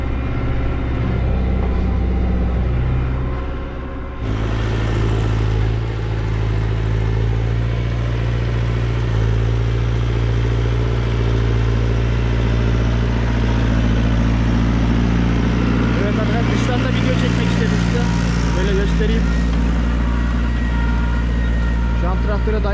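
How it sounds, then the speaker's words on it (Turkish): A Massey Ferguson 5430 tractor's engine and exhaust rumble loud and steady close by, a continuous low drone that lasts throughout. "Ama böyle egzoz sesi olması daha güzel tabii ki."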